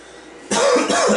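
A man gives a sudden, rough cough that breaks into a couple of quick bursts, close and loud after a quiet moment.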